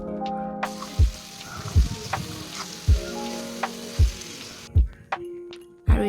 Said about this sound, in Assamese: আৰু এইখিনি অলপ সময়ৰ কাৰণে ভাজিব। লগত দিলে নিমখ